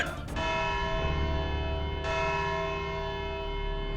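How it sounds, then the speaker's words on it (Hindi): A single large bell strikes and rings out with a long, loud resonant hum that slowly fades. "घंटी बज गई।"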